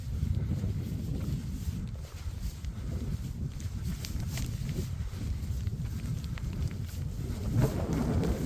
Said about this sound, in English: It's windy, it's a little rainy, but it makes us feel tough.